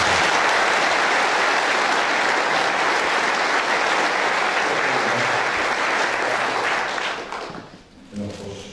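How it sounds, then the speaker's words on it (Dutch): A crowd applauds at a municipal New Year's reception, with dense, loud, sustained clapping that fills the room and then tapers off quickly near the end, where a few low voices come through. "Dames en heren, maar even een applaus voor de heer"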